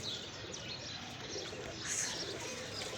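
Pigeons offered in pairs for sale coo softly amid a continuous faint background hum, a low murmuring call close by and with no one speaking.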